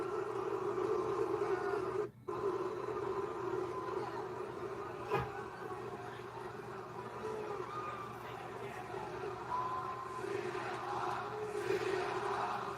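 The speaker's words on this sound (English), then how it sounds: "Oh, they cheering for CM Punk?" Distant arena crowd at a WWE Raw wrestling show cheering for CM Punk, a sustained rumbling roar with a brief dropout and a sharp thump partway through, heard faint and steady.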